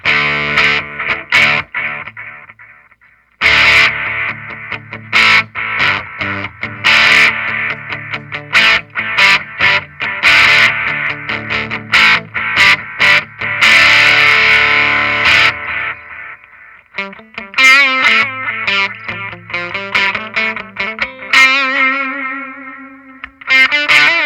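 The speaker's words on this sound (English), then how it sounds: "let's do a little bit more of a thicker MOSFET overdrive here" An electric guitar runs through a thick MOSFET overdrive on a Donner Yellow Fall delay pedal, loud distorted chords and riffs with echo tails, ending in a brighter phrase of quick single notes, with no talking.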